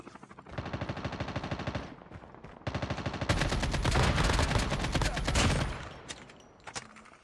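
Rapid automatic gunfire from a battle royale video game, loud sustained bursts of machine-gun fire with brief gaps, intensifying into a dense continuous volley before trailing off into scattered shots.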